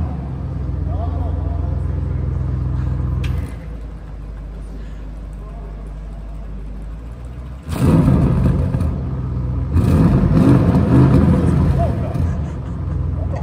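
A 2020 Audi RS6 C8 engine idles with a low rumble, then revs up hard twice with loud surging roars while stationary, while people talk nearby.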